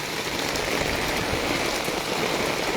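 Heavy rain pours onto village streets in a dense, even roar of drops striking hard surfaces, loud and close with no pauses and no voices.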